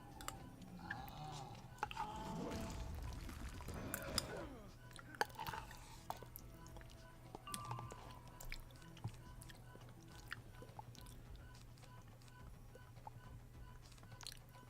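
Close, faint chewing picked up by a microphone, with moist squishy smacks and small crunches repeating irregularly over a quiet background.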